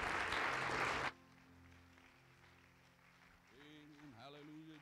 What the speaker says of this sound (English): Let's give God a clap offering as the pastor comes.